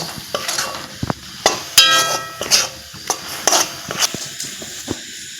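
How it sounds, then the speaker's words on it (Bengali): A spoon stirs a raw mango and jaggery naru mixture in a pan, with intermittent scraping and clinking strokes, close and fairly quiet, no one talking. "অনবরত নাড়াচাড়া করে নিচ্ছি"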